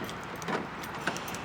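A Ford truck master key jangles on its ring, a few light metallic clinks over quiet background noise.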